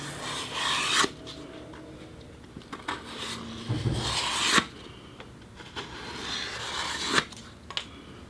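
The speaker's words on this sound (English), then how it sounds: "Then we're going to scrape as much of that off as possible." Scraping excess hot glue off a paper edge on a foam model airplane build: repeated close rasping, rubbing strokes at an irregular rhythm, fairly quiet, with no voices.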